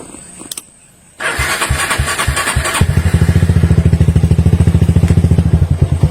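A motorcycle engine cranks with a starter whir, catches and settles into a steady, fast-thumping idle, loud and close, after a few faint clicks at the start.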